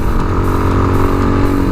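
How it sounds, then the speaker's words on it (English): Honda clone air-cooled single-cylinder engine of a Tao Tao TBR7 dirt bike runs steadily close up, a loud continuous buzzing putter with no speech. "clone air-cooled engine."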